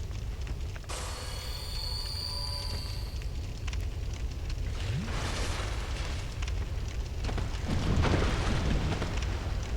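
Fire burning in Dark Souls 2, a dense crackling roar of flames that is loud and constant, with a brief thin whistling tone early on and a swelling rumble near the end.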